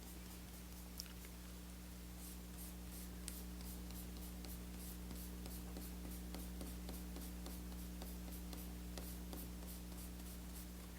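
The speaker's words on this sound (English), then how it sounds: "I'm going to erase all my guidelines" Pencil guidelines being rubbed out on drawing paper with an eraser: faint, close scratchy strokes ticking along steadily over a constant low hum.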